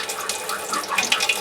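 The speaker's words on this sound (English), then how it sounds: "you can hear air bubbles coming into the water heater, and the flow has dropped off a lot." Water gurgles and runs from a draining water heater nearly empty, with air bubbles drawn in and the flow weakening; a steady close hiss with small splashy bursts near the end.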